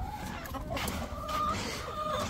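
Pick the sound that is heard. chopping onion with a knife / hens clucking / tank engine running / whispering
hens clucking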